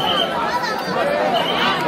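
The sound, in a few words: crowd chatter at Ekvira temple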